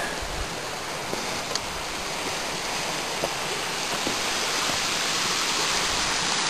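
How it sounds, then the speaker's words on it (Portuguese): A violent flash-flood torrent rushes over rocks in Campo Grande, Teresópolis. The roar is loud, dense and unbroken, with faint knocks of stones within the steady rushing water. "Violência dessa cabeça d'água é muito impressionante."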